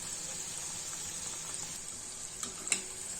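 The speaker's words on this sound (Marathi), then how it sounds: "तर मी अशी मंद आचेवर ही दुसरी बाजू पण भाजून घेते।" Fasting pakodas fry gently in oil on a low flame with a soft, steady sizzle and a couple of faint pops near the end.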